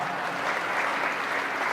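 Seminar audience applause, a soft, steady wash of clapping heard from some distance, unbroken for under two seconds.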